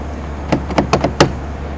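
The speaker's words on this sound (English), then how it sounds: "I'm going to lock the door." Keyless tractor truck door locking: several short, sharp mechanical clicks and clunks, the last one loudest, close by over a steady low engine idle hum.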